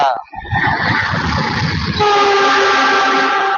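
Train running on rails with its horn sounding, a loud close rumble of wheels joined by a sustained harmonic horn blast.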